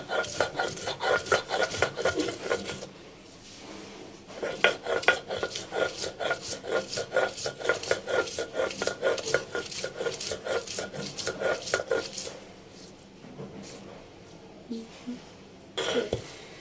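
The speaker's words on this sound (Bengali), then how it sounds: "এটা এখন ভালোভাবে বেটে নেব" Green chili, coriander leaves, garlic and onion with a little salt are ground on a flat grinding stone, a loud, close, rhythmic rasping scrape repeated steadily with brief pauses, with a few coughs in between.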